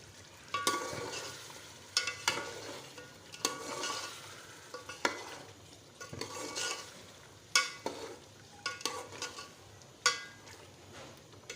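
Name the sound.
potatoes being stirred and fried in masala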